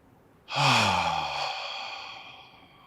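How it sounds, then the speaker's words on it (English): One long, deep exhale during a guided breathing exercise, a close, loud breathy sigh that starts abruptly and slowly fades over about two seconds, alone without speech. "Take 2 more breaths."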